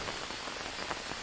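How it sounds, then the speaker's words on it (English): Rain falls steadily in the Green Hell jungle survival video game, a dense even patter of drops on surfaces, continuous and fairly loud with no speech. "it's still raining"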